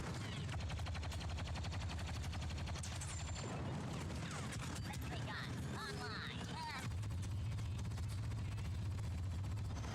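Gunfire in a Star Wars video game, with rapid bursts of shots rattling continuously through a dense, loud battle mix while a player talks over the action.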